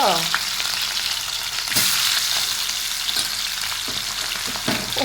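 Hot oil sizzles and fries continuously in a pan, close up, with a few sharp utensil knocks and spatters breaking through the steady hiss.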